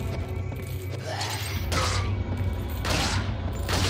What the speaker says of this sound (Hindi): ओ भाई मैंने गोली चलाई